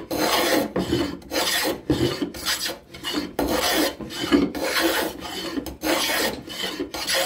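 A scrub plane takes thick shavings off wood in repeated rasping strokes, each about half a second long and separated by short pauses, heard close up and alone.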